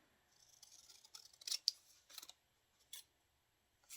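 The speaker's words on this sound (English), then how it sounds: "My big scissors. So I can cut some of this off here." Quiet snips of scissors cutting paper, a few short crisp cuts close by with pauses between them in an otherwise silent room.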